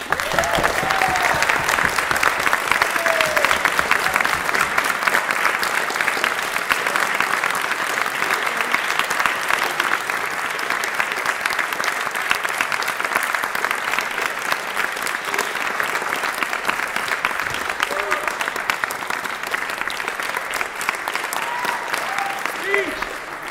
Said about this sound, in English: So I'd like to have a round of applause.